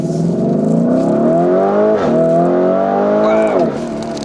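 A Lamborghini Urus SUV in race mode accelerates hard from inside the cabin, its engine note climbing loud and strong through two upshifts before the revs drop away near the end.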